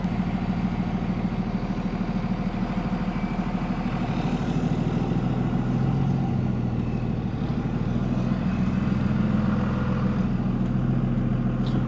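A manual Cummins diesel truck drives on the road, its heavy engine droning continuously and loudly with low rumbling throughout, heard from inside with no speech.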